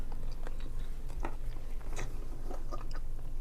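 Someone chews food close to the microphone, with repeated crisp bites and crunches in an irregular rhythm over a steady room hum, and no one speaks.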